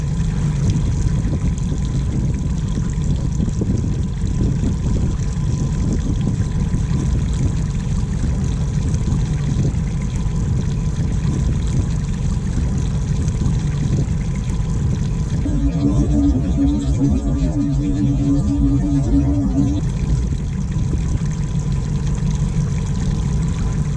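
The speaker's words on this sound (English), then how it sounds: "I have given the little outboard a fair run today" A small outboard motor on a trout-fishing boat in Tasmania runs steadily throughout, a continuous low engine drone with water noise, and a brief higher tonal whine rises partway through.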